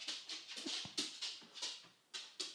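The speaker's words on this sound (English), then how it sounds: "That's my dog." A pet dog whimpers and pants close by in quick repeated bursts, a rhythmic series of short breathy whines with a few higher yelps.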